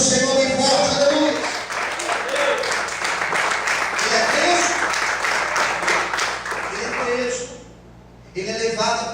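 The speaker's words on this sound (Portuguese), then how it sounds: "Você pode aplaudir o Senhor bem forte" A church congregation applauding during a sermon, a sustained wash of clapping running beneath a preacher's loud voice before fading out.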